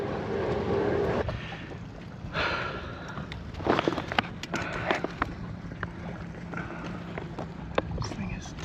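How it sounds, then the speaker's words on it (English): Wind rises and gusts around a Hallberg Rassy 44 sailboat on the Côte d'Azur, a rough roaring rush broken by knocks and rattles of rigging and deck gear, fairly close and moderately loud. "just in time as the wind is starting to pick up"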